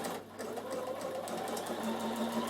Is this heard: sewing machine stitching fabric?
yes